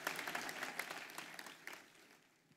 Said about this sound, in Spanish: Un aplauso para mis modelos.